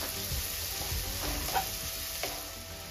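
Onions sizzle in a pan as they cook until brown for egg curry, a faint, steady frying hiss with a couple of brief stirring clicks; no voices.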